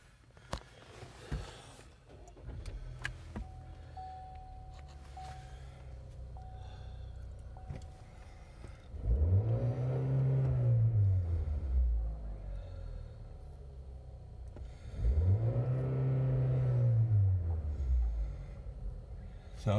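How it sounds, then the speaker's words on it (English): A 2018 Chevrolet Malibu LT engine idles with a low rumble, revving up twice in smooth rising-and-falling surges, close by. "Listen to the engine."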